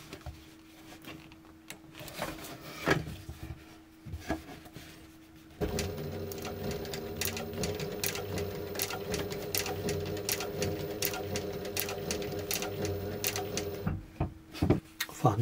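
A sewing machine stitches through four layers of soft leather, running in a steady, fast mechanical rhythm for about eight seconds after a few separate clicks and knocks.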